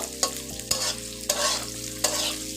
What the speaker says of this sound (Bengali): তো আমি এখন প্রথমে এটাকে ভেজে নিব।